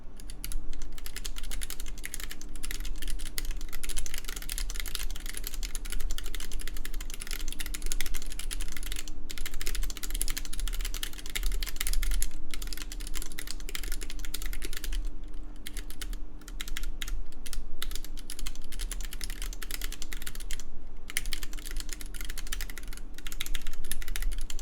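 Continuous steady typing on a custom-built RGBKB Banana mechanical keyboard, dense overlapping key clacks at a close, even level for the whole stretch, with no talking.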